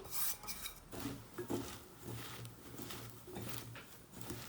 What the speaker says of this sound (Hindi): और इसको अच्छे से मिक्स करेंगे और ये चावलों का आटा ऐड कर देंगे।